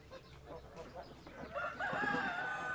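Farm hens clucking and calling close by in a coop, with a rooster-like call rising near the end and a person speaking softly over the birds.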